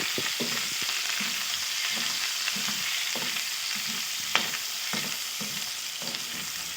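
Bagoong alamang shrimp paste frying in a pan sizzles steadily and loudly, with a utensil scraping and stirring through it in an uneven rhythm and a single sharp clink partway through, all close up with no voices.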